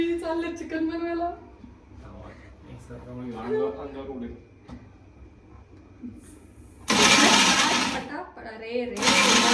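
An electric mixer grinder in a home kitchen, used while making chicken, starts with loud whirring bursts near the end after a stretch of conversation.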